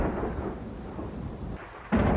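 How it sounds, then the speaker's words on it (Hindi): Thunderstorm with heavy rain, a continuous roaring wash of downpour and rumbling thunder, then a sudden loud thunder crack bursting in near the end. "तूफान तेज होता जा रहा था।"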